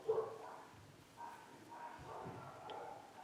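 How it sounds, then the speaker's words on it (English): Dogs bark faintly in the background of an indoor room, with soft repeated woofs spread through the moment. "And my dogs are barking like crazy."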